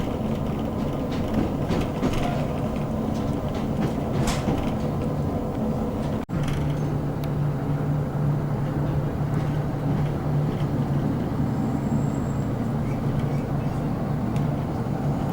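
A steady rumble of a train in motion on the West Highland Line approaching Rannoch, with a brief jolt midway followed by a low humming drone.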